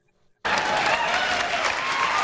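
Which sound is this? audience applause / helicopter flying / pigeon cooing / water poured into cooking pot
audience applause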